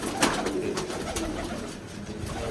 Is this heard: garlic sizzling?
no